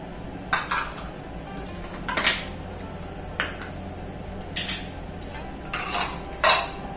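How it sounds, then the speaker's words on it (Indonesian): Egg whites and leftover ice cubes go into beef meatball dough in a bowl, heard as several separate clinks and knocks of utensils against the dish spread across a quiet background. "sekarang kita masukkan putih telurnya dan sisa dari es batunya ya"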